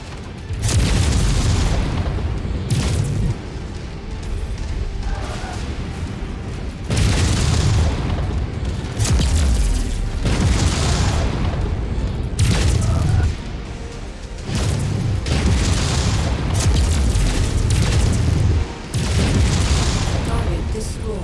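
Weapon fire and explosions in a video game: heavy booms recur every few seconds, each followed by rumbling decay, with faint radio-style voices underneath.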